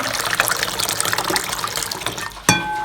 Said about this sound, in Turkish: Şimdi ilk önce suyu koyalım.